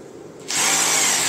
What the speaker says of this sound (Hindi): इसकी अनबॉक्सिंग हो चुकी है, अभी इसको चालू करके देखते हैं कैसी होती है